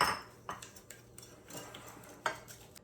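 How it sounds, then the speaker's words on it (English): Eggs and sugar beaten by hand in a mixing bowl, giving light clinking and ticking strokes against the bowl in a loose, uneven rhythm, close and fairly quiet. "I'm going to beat those up first."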